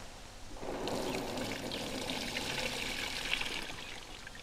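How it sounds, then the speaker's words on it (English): Homemade comfrey liquid fertilizer, slimy with broken-down leaf particles, is poured off into a container: a soft, steady trickling pour that begins after a brief pause and continues quietly on its own. "I'm just going to try and pour it off now."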